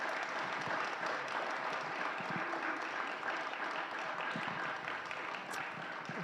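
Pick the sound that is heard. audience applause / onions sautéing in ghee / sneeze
audience applause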